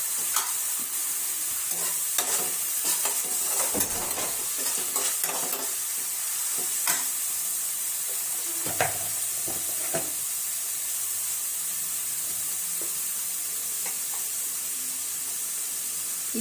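Tomato and spices frying in a pan, a constant bright sizzle with a cluster of stirring scrapes and taps early on, then quieter, steady hissing.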